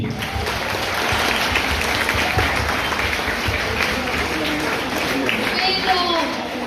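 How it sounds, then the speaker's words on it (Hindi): Audience clapping for a teacher at a student talk show event, sustained applause from a crowd with some voices and cheers mixed in. "जोरदार तालियां"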